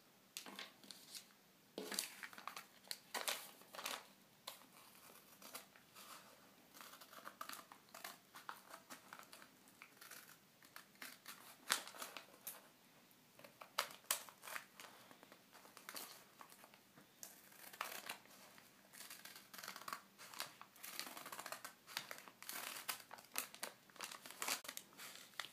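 Scissors cut out shapes from paper, with soft, irregular snips and crinkling of the sheet heard faintly and close by, without talk.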